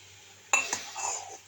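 Boiling water is ladled out of a metal pot, a sharp clink of the ladle on the rim followed by a short slosh and a second tap, close and quiet with no speech.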